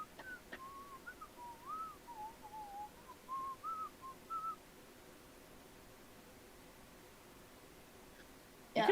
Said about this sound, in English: so he's just whistling.